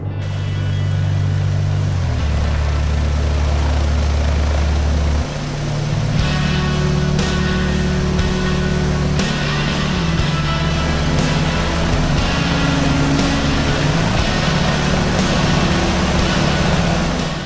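A loud, continuous helicopter rotor and engine drone in X-Plane 11 flight simulator holds steady throughout, with a brief shift in pitch partway, and no voices.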